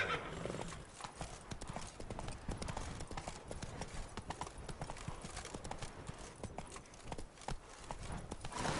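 Roach, a horse in The Witcher 3 video game, trots with continuous close clip-clop hoofbeats over a dense game background.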